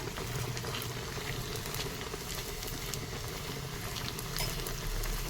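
Rice pooris frying in hot oil just after flipping, a dense bubbling, crackling sizzle that runs steadily and close, with no voices.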